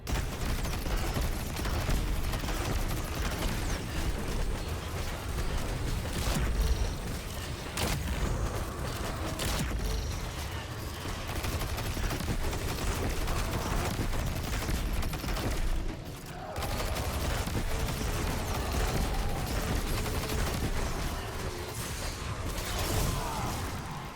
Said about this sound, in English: another auto rifle, the Quicksilver Storm. This strand auto rifle comes with a grenade launcher, allowing us to shoot out 3 bonus strand grenades